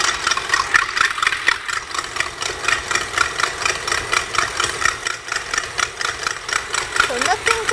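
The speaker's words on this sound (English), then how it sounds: "it's going to be noisy. Sorry, we have to whisk the egg whites" An electric mixer whisks egg whites with a steady whirring buzz and rhythmic rattling pulses, loud and continuous throughout, with a brief voice near the end.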